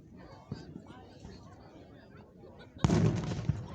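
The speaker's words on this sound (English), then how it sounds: "Oh, that was a loud explosion." An Independence Day fireworks show in Van Wert, Ohio, on the Fourth of July: a muffled pop and low rumbling background, then a sudden loud, close explosion near the end that decays over the last second.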